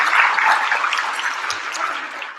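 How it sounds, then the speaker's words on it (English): Audience applause at a Braille Challenge award ceremony, a dense, steady clapping from a crowd indoors that slowly fades, with no talk. "Great round of applause."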